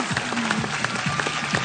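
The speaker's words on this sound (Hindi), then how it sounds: "बहुत सारी तालियां" A TV studio audience applauds in a brief, dense burst of many hands clapping, with a slight crowd murmur mixed in.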